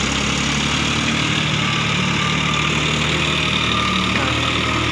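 A John Deere tractor's 2,900 cc three-cylinder turbo diesel engine revs steadily up close, a continuous loud drone with no clear pauses.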